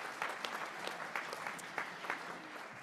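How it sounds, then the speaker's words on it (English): A fellowship audience clapping faintly, with scattered individual claps in a soft, uneven rhythm, heard from a distance in a large room. "you can clap"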